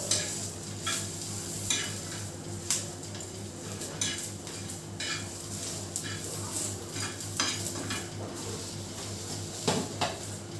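Coriander, garam masala, garlic and onions roast dry on a tawa, a spoon scraping and clinking at an uneven pace over a faint sizzle and a low steady hum, fairly quiet overall.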